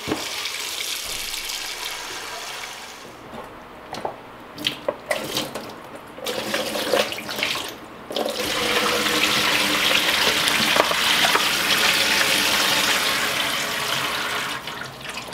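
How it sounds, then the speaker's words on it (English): Tap water runs into a sink holding sprouted seeds with loose husks, a loud close gush that splutters and shifts, then settles into a steady continuous rush. "So I wonder if now I add water, if those will float to the top."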